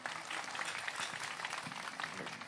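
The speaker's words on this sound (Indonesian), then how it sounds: "Tepuk tangan buat Ozil." A crowd at an Islamic religious gathering applauds for Ozil, a boarding-school pupil, with a soft, continuous patter of many hands heard faintly and at a distance.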